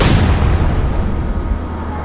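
Naval gunfire booms in the Atlantic Fleet video game, one loud blast at the start that rolls away into a long fading rumble.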